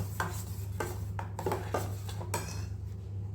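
A spoon stirs a gulab jamun mixture with ghee in a metal pan, giving close scraping strokes and clinks in an uneven rhythm over a steady low hum, with no talking.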